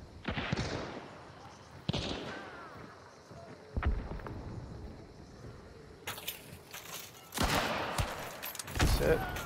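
Several sharp video game gunshot cracks from Hunt: Showdown ring out at a distance, scattered irregularly, with a louder burst of rapid shots near the end.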